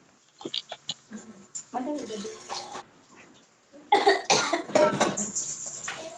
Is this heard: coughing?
yes